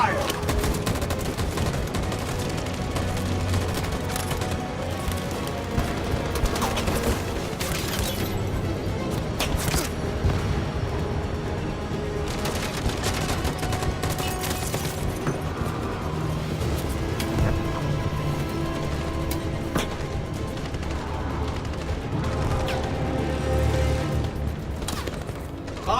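Sustained gunfire volley in Detroit: Become Human: dense, overlapping rifle shots and bursts crackle continuously for the whole stretch, loud and close, with scattered impacts and faint voices mixed into the din.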